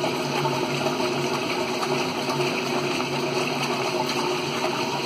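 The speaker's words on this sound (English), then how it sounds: "Pump seems to work well." A 1984 Maytag LA712 washing machine pump drains water in a steady, loud, continuous gushing rush with no pauses and no voices.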